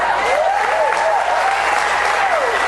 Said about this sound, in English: Yeah, don't clap, guys.